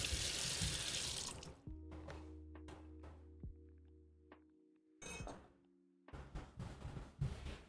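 Water runs hard from a kitchen tap into a sink, then stops and gives way to clinks of glass and dishes being washed. The tap gushes again later amid more clattering.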